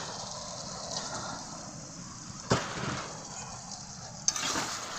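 Lotia fish frying in a pan of hot oil on a home stove gives a steady broadband sizzle and crackle, with a couple of sharp spits and pops standing out.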